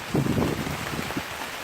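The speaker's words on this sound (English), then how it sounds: "as you can see, it's raining out here. Probably can't see it. I know you can hear it." Steady outdoor rain hiss with a low rumble, a dense continuous patter throughout, no voices.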